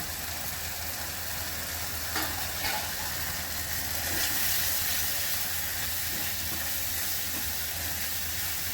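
Ground masala of chili powder, turmeric, coriander, cumin and salt sautés for a rohu fish curry, producing a steady, even sizzle and hiss that runs uninterrupted throughout.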